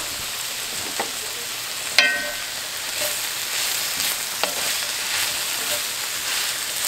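Cabbage frying in a pan for an Appalachian meal, with a steady close sizzle and crackle throughout and a few sharp utensil clicks against the pan, no talking.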